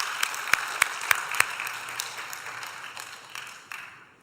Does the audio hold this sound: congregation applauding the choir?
yes